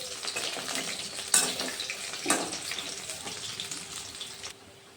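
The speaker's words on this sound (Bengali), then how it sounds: "এইভাবে আমি সবগুলো প্রথমে ভেজে নেব।" Soya chunks fry in hot oil in a home kitchen, giving a steady close sizzle and bubbling with a few sharper crackles and stirring knocks, with no talking.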